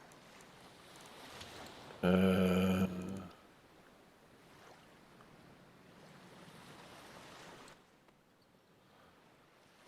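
Loud rushing water and wave noise from the underwater game Cyclopean: The Great Abyss, with a brief harsh burst near the start and a steady wash afterward, under a short spoken hesitation.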